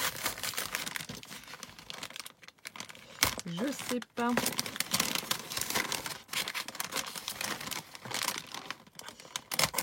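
Tape and plastic packaging crinkle and rustle as a taped parcel is pulled open, in irregular bursts of crackling close to the microphone, with someone speaking briefly in French in between.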